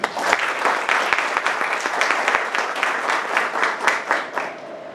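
An audience applauding at a formal presentation, dense steady clapping that fills the whole stretch at moderate loudness, thinning slightly toward the end, with no one talking over it.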